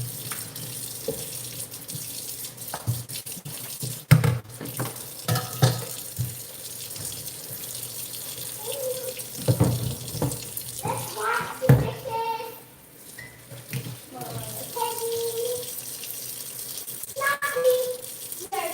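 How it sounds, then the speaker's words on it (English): Dishes are washed in a kitchen sink under a steadily running tap, water splashing continuously with occasional clatters of dishware and a voice in the background. "Join me to do the dishes"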